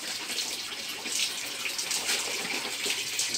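Tap water runs steadily in a continuous hiss while laundry is washed by hand, a close, even flow with no voices over it.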